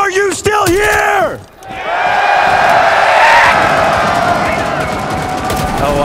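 Large esports arena crowd in Atlanta at a Counter-Strike major quarterfinal, Spacestation Gaming versus FaZe Clan, roaring and yelling loudly and continuously after an announcer's shouted call, the cheer swelling and holding.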